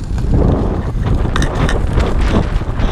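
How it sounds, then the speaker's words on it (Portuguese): A strong headwind buffets the microphone while roller skating along a seafront, making a loud continuous roar and rumble with gusty swells throughout. "totalmente contra o vento"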